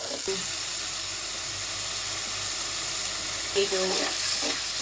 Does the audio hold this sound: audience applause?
no